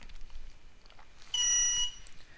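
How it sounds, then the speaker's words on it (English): A Perception Neuron motion-capture hub gives a single loud electronic beep, about half a second long, when plugged in, over quiet room background. "you'll hear it beep since I already set up the network."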